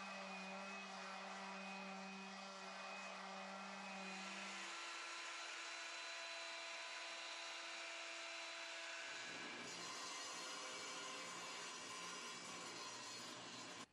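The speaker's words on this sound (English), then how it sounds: "I want to take the belt sander and even up these joints" Belt sander running steadily on a glued wooden hope chest base, evening up the joints; a loud continuous motor whine with broadband sanding noise that shifts in pitch and grit partway through, with no talking.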